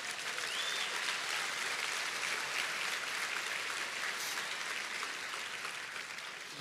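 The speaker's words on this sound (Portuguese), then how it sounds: "aplauda Jesus aí onde você está." Church congregation applauding during a sermon at a revival event, a steady wash of clapping from a large crowd, heard at a distance and fairly faint.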